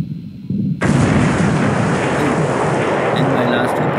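A ship takes a hit and explodes in the naval war game War in the Pacific, with a quiet rumbling lead-in followed by a sudden loud blast that turns into a long, roaring, crackling burn.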